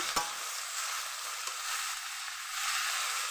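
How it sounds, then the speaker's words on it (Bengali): Mixed vegetables frying in a pan give a continuous close sizzle with a few sharp stirring clicks, swelling slightly louder toward the end. No voices. "আমার সবজিটা কিন্তু অনেকটাই ভাজা ভাজা হয়ে এসছে"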